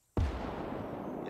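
Single heavy artillery gun firing in the Gates of Hell Ostfront video game, a sharp deep boom after a brief silence, then a long rumbling roll that lingers to the end.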